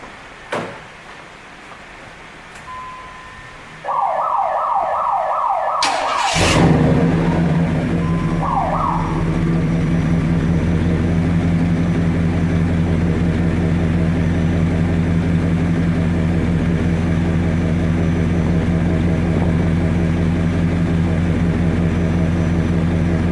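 A 1995 Impala SS fitted with a K&N intake and Flowmaster 40 series exhaust starts up after a short whine, then settles into a loud, steady, deep idle rumble that runs uninterrupted to the end.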